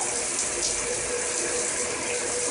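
A newly installed shower head runs at full flow, a steady loud hiss of spraying water that stays even throughout with no talking.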